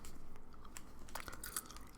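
Gum chewing sits close and quiet, with soft wet clicks and small crunchy snaps scattered irregularly over a faint background hush.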